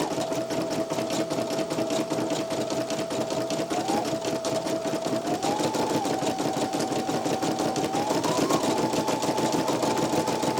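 A Brother PE-900 embroidery machine stitches out a design with a fast, steady mechanical chatter and a whirring motor hum whose pitch rises slightly a few times, close and continuous with no talking.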